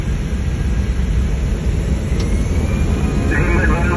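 Inside the cockpit of an Airblue airliner taking off, a steady broadband roar of jet engines fills the cabin, with a rising tone near the end and a voice talking under the noise.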